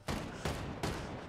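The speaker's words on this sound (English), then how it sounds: "Oh, he's shooting at me." Gunfire in the Fortnite video game comes as three quick, heavy shots spaced evenly, each booming and then decaying, fairly faint and without talk.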